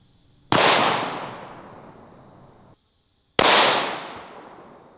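Glock pistol firing squib loads outdoors: two sharp, loud single shots a few seconds apart, each followed by a long decaying echo.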